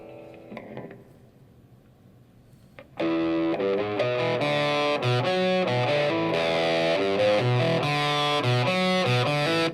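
Electric guitar through a Fender Mustang II amp's vintage Vox-style model, with a gritty, overdriven tone playing a bright chordal riff, starting after a few seconds of faint noise and holding steady and loud.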